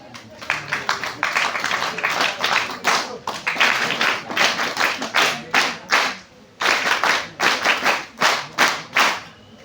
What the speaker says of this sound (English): clap again for Mutba Lapasam